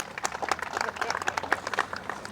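A crowd at a city street groundbreaking ceremony applauds in a scattered, moderately distant patter while a voice talks over it.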